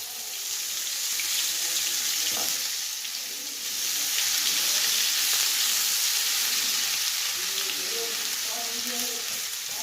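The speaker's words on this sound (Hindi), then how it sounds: "अब देसी घी मेल्ट होने पर इसमें लहसुन और अदरक का पेस्ट डाल देना है 2 टेबल स्पून" Garlic and ginger paste, two tablespoons, sizzles in melted desi ghee for a mixed dal, a steady broadband frying hiss that runs close and loud throughout, with small clicks and pops scattered across it.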